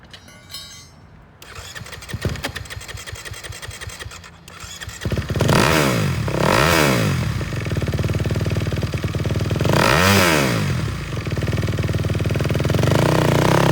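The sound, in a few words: Kawasaki KX250 dirt bike engine running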